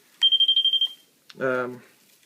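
A quick string of high electronic beeps from a Light Keeper Pro light-string tester, about eight in under a second, followed by a brief voice.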